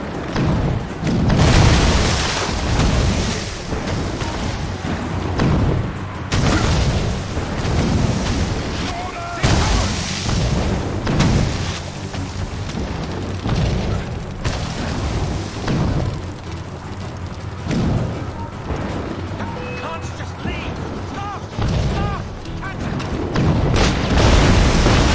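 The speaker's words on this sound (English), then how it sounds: "Chevalier's using mortars to stop Shay." Mortar explosions in a video game land as a dense, continuous barrage of loud, deep booms and rumbles that roll on without pause.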